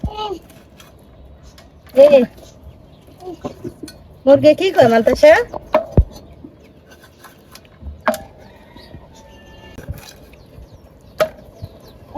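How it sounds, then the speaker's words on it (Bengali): A few sharp knife chops as chicken is cut into medium pieces in a rural kitchen, isolated loud strikes spread out amid quiet background and some clattering. "মুরগিগুলো আমি বেশি ছোট করিনি মাঝের সাইজ করে কেটে নিব"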